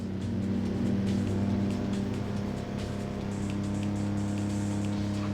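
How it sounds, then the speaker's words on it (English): Steady engine drone of a car fitted with a new muffler in a SEGA racing video game, a continuous even hum with no talking over it. "I like the new engine sound"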